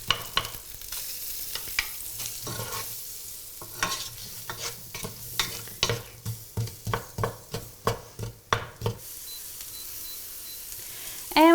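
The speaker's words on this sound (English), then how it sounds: "I can hear my onions sizzling" Onions sizzle steadily in a hot pan while a spoon stirs them, giving a run of rhythmic scraping strokes that grow louder toward the end; the food is spiced cauliflower soup and no one speaks.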